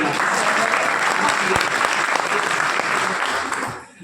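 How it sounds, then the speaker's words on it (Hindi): Vigorous applause from a class of students, thick and continuous with a few sharper claps standing out, tapering off at the very end. "एक बार जोरदार ताली"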